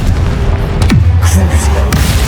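A Confringo blasting spell in Hogwarts Legacy goes off with a close, loud boom and a low falling whoosh, followed by a rumbling tail and a second sharp crack near the end.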